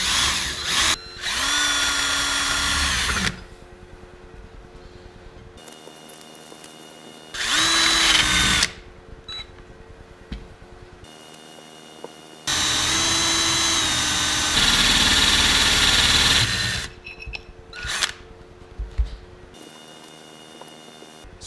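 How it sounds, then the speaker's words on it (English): A power drill bores a hole through a cake stand plate under very light pressure. It runs in three loud bursts of steady whine separated by quiet gaps, close and alone. "I've got the drill bit chucked up in my drill."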